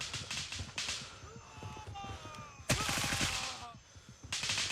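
Gunfire in the Gray Zone Warfare shooter: rapid cracking shots land in several dense bursts, loud and close, with brief lulls between volleys and faint voices behind them.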